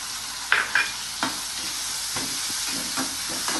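Onion frying in a pan, a continuous close sizzle with a few scraping stirs and clinks of a utensil early on and softer stirring strokes afterward, no talk.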